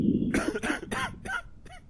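Recorded cough sounds from a toy doll, a quick series of five or so short, raspy coughs in a steady rhythm, close and clear with nobody talking.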